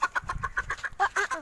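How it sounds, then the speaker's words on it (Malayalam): Chickens cluck in quick, repeated bursts close by, a steady run of short calls with a low rustling rumble underneath, and no talk over them. "കോഴി പുറത്ത് ചാടി ഗൈസ്"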